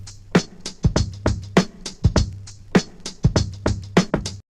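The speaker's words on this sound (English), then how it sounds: "Our drum loop sounds like this." A steady hip hop drum loop with kick, snare and crisp hi-hat hits in a looping groove, played alone at moderate loudness.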